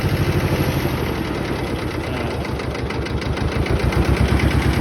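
An Iseki TS2210 tractor engine idles up close with a loud, steady, throbbing chug, its rapid knocking pulses running evenly throughout.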